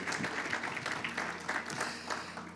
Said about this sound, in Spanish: dígame y dele un aplauso al Señor